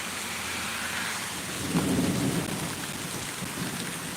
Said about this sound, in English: Like I said, more close lightning.